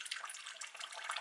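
Water poured through the mesh top of a pet cage, a steady close splashing trickle that runs continuously without pause.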